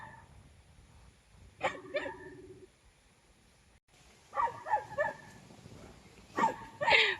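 A dog on a farm barks in short bursts of several yips and barks, with quiet pauses between them. The barking sounds moderately close over a faint outdoor background.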